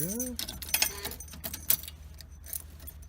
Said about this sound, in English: Just trying to get the keys here.